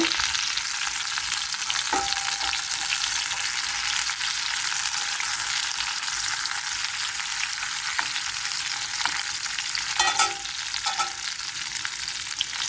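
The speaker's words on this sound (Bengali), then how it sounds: "এই যে পটলটা আমার ভাজা শেষ হয়ে যাচ্ছে" Pointed gourd (potol) fries in a pan with a loud, steady, hissing sizzle that runs throughout. A few brief scrapes and clinks of stirring break in around the middle and later.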